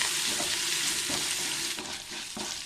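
Bitter gourd strips frying with curry leaves in a pan, a steady loud sizzle with soft stirring scrapes running throughout, no voices.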